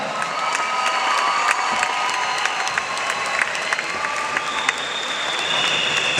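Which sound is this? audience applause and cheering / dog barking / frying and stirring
audience applause and cheering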